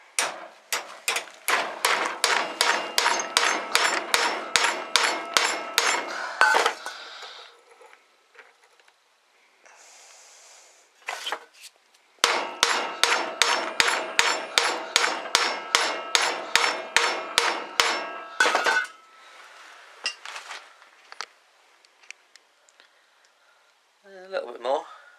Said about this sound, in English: I may even just take it straight to the old hammer